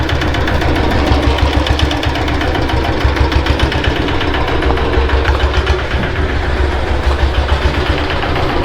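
A motorcycle engine runs steadily, its engine in good condition, a loud close rumble with a regular pulsing throb and no talking over it.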